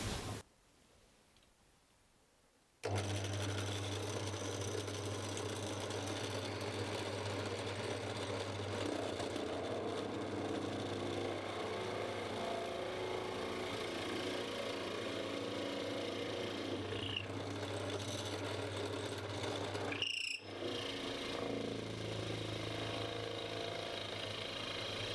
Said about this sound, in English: that's drilled that out nicely